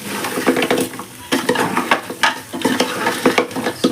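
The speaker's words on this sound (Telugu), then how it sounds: "తలకాయ కూర ఈ విధంగా బాగా కలిసేలాగా కలుపుకోవాలి మొత్తం." Spoon stirring goat head curry in a pan, with irregular scraping and clattering strokes over a light sizzle, close and fairly loud, no talking.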